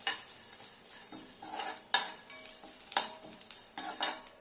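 Sharp crackles and pops of whole garam masala spices burst irregularly over a dry scraping stir in a pan, close and fairly quiet.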